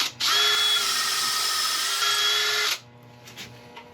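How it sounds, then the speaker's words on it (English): A wood lathe turning a burl whirs up to a loud, steady high-pitched whine, runs evenly for a couple of seconds, then cuts off abruptly, leaving quiet workshop background. "get it on the lathe, and we're just going to be turning this little bit here."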